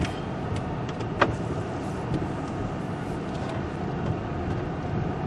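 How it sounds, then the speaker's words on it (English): A Ford car drives through a residential area at moderate city speed, with steady engine and road noise rumbling evenly throughout and a brief click near the middle, no talking. "Let's go for a drive"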